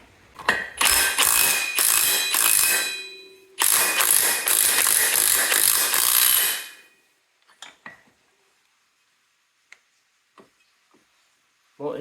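A puller grinds and clicks as it pries a rusty part off the gearbox of a Scrambler 500 2x4 ATV, two long loud bursts of ratcheting mechanism followed by scattered faint ticks and knocks.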